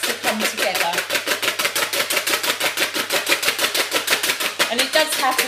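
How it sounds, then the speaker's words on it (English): Meringue mixture being whisked on its own in a bowl, a fast, steady rhythmic beating of the whisk against the bowl, loud and close throughout with no pauses. "I move it away from the main mix and then I whisk it on its own"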